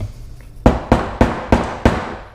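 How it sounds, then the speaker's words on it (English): Five sharp hammer taps on a small nail while rebuilding a 1980s–90s 25 hp Johnson Evinrude outboard carburetor, evenly spaced about a third of a second apart, close and crisp with quiet between strikes. "take a small nail and a hammer, you can gently just tap it in there"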